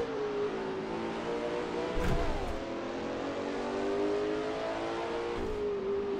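Ford Falcon touring car engine at racing pace around Lakeside Raceway in a racing game, a steady loud mid-pitched drone with a brief gear-change dip and rising revs, other cars audible nearby.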